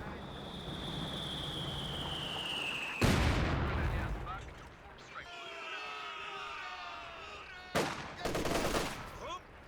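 MG34 machine gun bursts rattle out in Company of Heroes 2, with a loud rapid volley midway and another later amid battlefield noise, plus a voice speaking between them.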